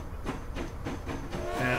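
A train in the Transport Fever video game rolls along rails with a short run of rhythmic clickety-clack beats, moderately loud, ending in a faint hiss.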